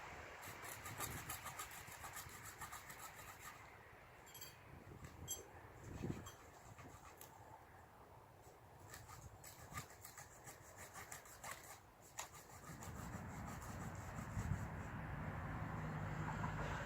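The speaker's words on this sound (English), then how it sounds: "Now, of course, we're not cutting down the tree, but we are just making a small cut in it." A SOG folding entrenching tool's saw blade cuts into a living tree outdoors, giving repeated rasping back-and-forth strokes in an irregular rhythm, fairly quiet and close, with brief pauses between bursts.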